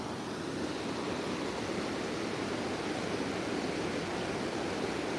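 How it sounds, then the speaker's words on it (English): A waterfall along a fenced bank beside an ice-fishing spot rushes in a steady, dense wash of broadband noise, constant and fairly distant with no voices. "Usually this waterfall is not that active"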